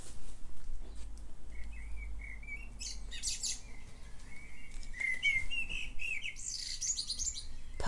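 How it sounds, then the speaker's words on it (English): A blackbird sings outdoors in fluting, whistled phrases that come and go over several seconds, fairly faint against a soft low background hum. "So I'll stop here and listen to the blackbird. I never get tired of the blackbird singing."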